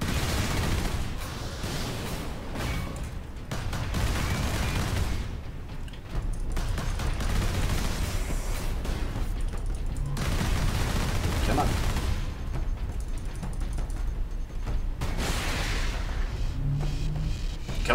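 Turret gunfire in the video game Warhammer 40K: Space Marine, with sustained bursts of rapid shots and heavy booms that keep up loud and steady, pausing only briefly.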